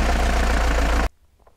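A diesel engine runs with a loud, steady combustion clatter and low rumble, then cuts off abruptly, leaving near silence with faint residual noise.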